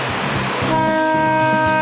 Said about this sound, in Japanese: ドキドキしながらレオとライナも電車へゴー。 出発進行